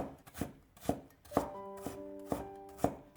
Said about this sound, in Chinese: 最后切成姜末